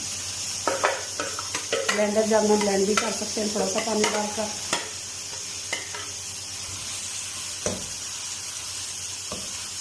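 Chopped onions crackle and sizzle in hot oil with stirring clatter, while a person talks over it.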